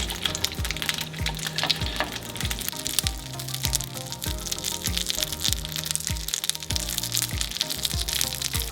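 Corn kernels frying in melted butter in a pan for Japanese soy butter corn, an intense crackling sizzle with dense pops and rhythmic low thumps of stirring, close and loud throughout.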